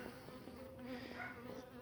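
Honeybees buzz around an open hive as they tend a caged queen, a steady, close, faint droning hum with no voices.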